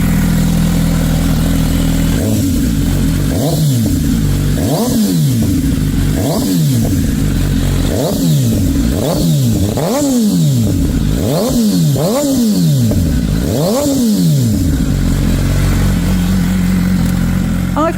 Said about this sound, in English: that quad exit exhaust system that not only looks incredible, but also gives you way more depth and snarl and bark and pops and crackles